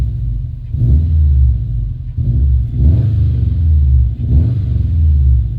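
A Subaru WRX engine idles close by with a deep, steady rumble that swells in a few low surges, loud and continuous with no talking.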